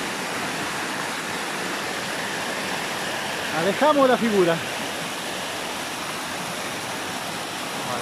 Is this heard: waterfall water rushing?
yes